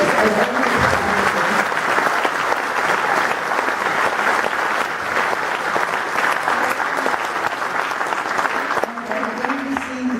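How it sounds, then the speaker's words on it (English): Sustained audience applause fills a university hall in Brownsville, Texas, at a Dolores Huerta talk, loud and continuous for about ten seconds, with voices faintly audible beneath and the clapping thinning near the end. "So let's give him a big applause, okay?"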